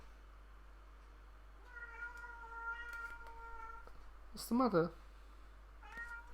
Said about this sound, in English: That's my cat, Thor.